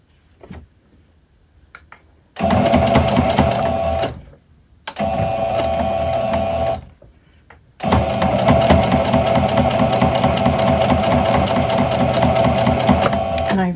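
A sewing machine stitches a fabric pet bandana in three loud, steady runs of rapid mechanical whirring, separated by brief pauses, heard close and alone.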